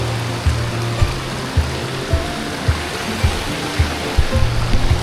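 A waterfall seen from above rushes as a loud, continuous broadband roar, with a series of regular low thumps running through it.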